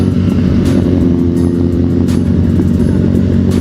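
A motorcycle engine running rough at speed, misfiring and cutting out, gives a loud, steady droning roar broken by irregular sharp pops and stutters throughout.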